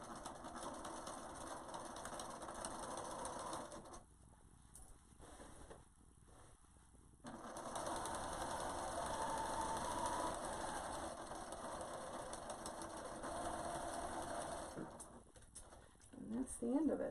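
A sewing machine stitching a basic half-inch hem on a reusable isolation gown, with back tacking: a faint, steady mechanical whir running in long bursts, with brief pauses between them.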